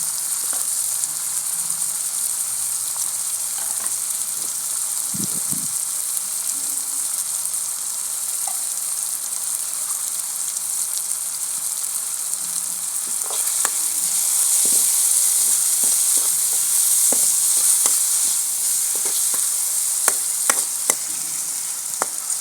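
Tomatoes with turmeric and salt fry in a pan for a biryani, giving a steady loud sizzle with occasional clicks of stirring and no speech.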